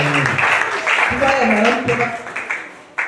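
Applause from a church congregation, a broad wash of clapping mixed with voices raised in praise, fairly loud and continuous throughout.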